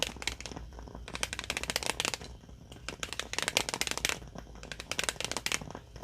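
A tarot card deck is shuffled close up in repeated riffling bursts separated by brief pauses, crisp and papery against a quiet background.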